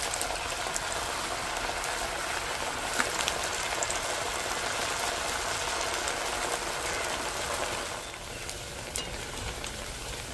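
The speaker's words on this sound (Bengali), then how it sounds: "তেল ভালো করে গরম করে নিয়েছি, একে একে ভাজার জন্য দিয়ে দিচ্ছি।" Potato rings fry in hot oil in a wok, giving a dense, continuous crackling sizzle at an even level with no talking.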